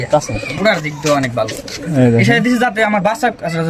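Soft, low racing pigeon cooing rises and falls close by, overlapping with a person talking over it.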